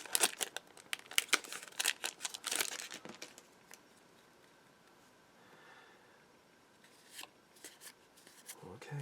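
A Magic: The Gathering Eternal Masters booster pack is torn open, with sharp crinkling foil and rustling bursts up front, a quieter stretch, then more crinkles and card shuffling near the end, all close to the mic.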